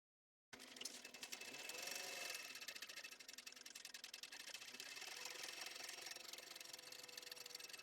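Sewing machine basting a mesh pocket onto a fabric panel for a laptop bag. After a moment of silence it starts and runs in a fast, even stitching chatter, close but fairly soft.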